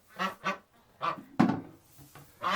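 Sick ducks with a hip problem, barely able to stand, give a series of hoarse, honking calls, several short bursts with gaps between them, close and fairly loud with no talking.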